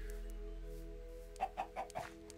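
Chickens in the game Minecraft cluck in four short, quick bursts near the end, over a low steady background hum.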